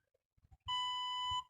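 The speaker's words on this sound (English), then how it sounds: "Random beeps." A device near a woodland bridge gives one steady electronic beep of about three-quarters of a second after faint knocks, clear and fairly close in a quiet setting.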